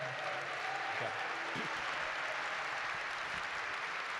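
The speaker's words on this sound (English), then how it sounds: "One more big round of applause for Jim Kavanaugh." Gala audience applauding steadily, a dense even clatter of hands filling the room at moderate level for the whole stretch, with no voices on top.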